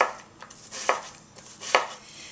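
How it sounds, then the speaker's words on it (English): A knife chops an onion on a cutting board. Crisp, sharp cuts come at a steady rhythm, a few of them clearly louder, all close-up with no voices. "it's a pretty classic way of cutting an onion"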